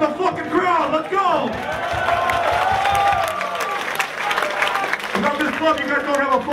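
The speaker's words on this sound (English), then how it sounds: "A thank you means an applause from the fucking crowd" A crowd at a live metal concert in a club in Den Bosch bursts into applause and cheering, dense clapping that swells and holds for several seconds, close and loud, with shouting voices mixed in.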